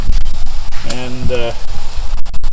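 Onions and mushrooms frying on a barbecue griddle give a close, loud, steady sizzle and crackle, while someone speaks briefly partway through.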